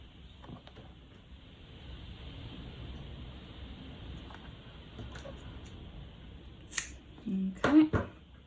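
Scissors snip the cord ends on a macrame semicircle wall hanging, with a few short, close cuts near the end against faint room noise and light handling sounds.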